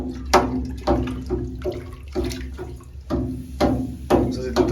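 Hot water scooped and poured in a Lithuanian village sauna shower, a run of splashy pours and sloshes in irregular bursts about every half second, nearby in a small room, with a voice speaking faintly at times.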